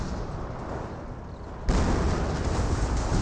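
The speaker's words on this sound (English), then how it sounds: "he is on top of a teammate's landmine there. It gets randomly detonated." A landmine detonating in the video game Company of Heroes, a sudden loud boom halfway through that gives way to a sustained rumbling roar over low battlefield noise.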